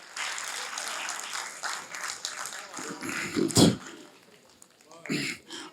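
Audience applause fills a hall at an Urdu literary conference honoring Josh Malihabadi, steady clapping from many hands that swells, then a sharp loud burst before fading, with a second short round near the end.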